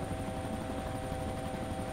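Helicopter engine in the DayZ Origins video game, a steady droning whine with a constant rotor hum that holds at an even level for the whole stretch, with no talking.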